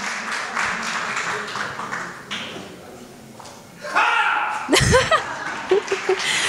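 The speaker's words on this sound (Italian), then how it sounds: "Rinnoviamo di nuovo l'applauso." Festival audience applauding at the Basilicata International Film Festival in Ruvo del Monte, a broad wash of clapping that thins out midway, then gives way to voices, a few thuds and scattered handling noises.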